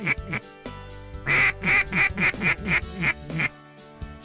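During a waterfowl hunt, a rapid series of about a dozen nasal duck quacks descends in pitch, loud and close, with a couple of brief separate quacks before and after.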